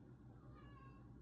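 A riled-up pet cat whines for attention in a short, faint, drawn-out meow close by, with no talking over it.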